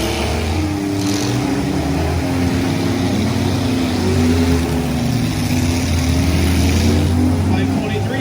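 A full-size pickup engine roars and revs steadily during a fairgrounds truck pull, loud and continuous while an announcer talks over it.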